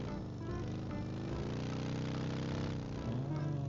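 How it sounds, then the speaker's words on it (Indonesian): A car engine in the PUBG game on the Livik map drones steadily, a dense, continuous mid-loud hum with no pauses. "Ini asli memang kayak suara mesin."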